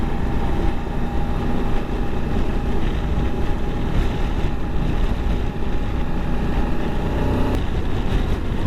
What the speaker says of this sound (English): The wind's pretty stout today.